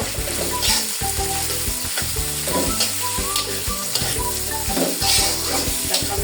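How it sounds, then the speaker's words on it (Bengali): Frying in a pan with a pinch of salt just added, a steady close sizzle running the whole time with repeated clatter and scrape of a utensil stirring the food in a rhythmic pattern. "এখন 3 সেকেন্ড করে ভেজে নিব"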